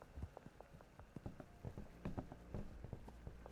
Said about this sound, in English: Yep, there's the horse.